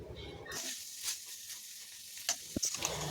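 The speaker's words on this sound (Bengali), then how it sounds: "এখন মাংসের সাথে মশলাটা ভালো করে মিশিয়ে নেব" Deboned chicken pieces are stirred with spices in a hot pan for chicken bharta, giving a soft, steady sizzle and scraping with a couple of faint utensil taps near the end.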